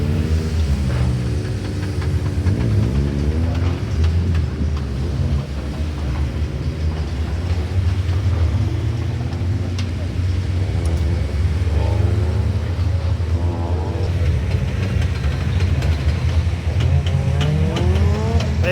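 Racing Honda cars pull away at the start of a race at Brands Hatch, a loud, continuous roar of several engines revving and shifting through rising and falling pitches, close by and without any talking.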